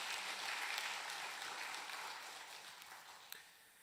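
A church congregation applauds the men's mission society and choir after an anthem at a Korean Sunday service, soft even clapping that slowly fades, heard from a distance with no talk.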